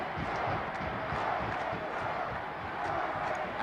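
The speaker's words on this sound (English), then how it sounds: "listen to this crowd, Lindsay. They're going wild here." A football stadium crowd at a 1980 New Orleans Saints home game against the Minnesota Vikings roars wildly, a loud, sustained wash of cheering with no break over the short stretch.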